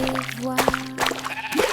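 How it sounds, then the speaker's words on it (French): A sheep bleats loudly in a couple of brief, wavering calls, close and clear. "Il bêlait bruyamment et remuait la queue"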